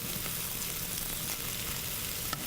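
Italian meatballs browning in a frying pan give a dense, continuous sizzle with soft crackles throughout and a single small pop near the end, close and uninterrupted by voices.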